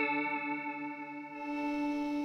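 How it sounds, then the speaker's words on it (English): Electric guitar played through a chorus effect pedal in a budget rig, sustained shimmering chord with wavering vibrato-like modulation, steady and close, heard alone. "The chorus. So you can use this as a vibrato setting"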